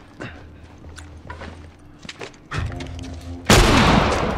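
Gunfire in The Last of Us video game, scattered thuds and shots building to a loud sustained burst of fire in the final second, with a voice briefly shouting.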